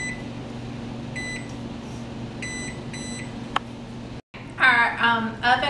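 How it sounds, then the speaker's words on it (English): A kitchen oven timer beeps in short repeated electronic chirps as buttons are pressed to set it, over a steady appliance hum, followed by a person talking. "So we're going to set our timer for 22 minutes."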